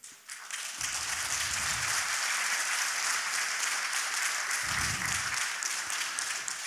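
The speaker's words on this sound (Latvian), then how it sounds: "Ļoti vāji aplausi." Thin applause from a small audience at a talk, continuous light clapping at a moderate level that carries on steadily, without cheering or voices.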